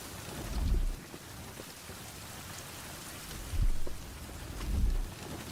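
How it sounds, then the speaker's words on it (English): Steady rain hisses across a dark game world, with low rumbles of thunder swelling at intervals beneath the continuous downpour. "It's dark and rainy, but no big deal there."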